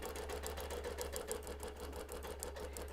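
A quilting machine runs steadily through a 1/4 inch basting stitch, freehanded across a solid wholecloth baby quilt, with a fast even needle patter and a low motor hum throughout.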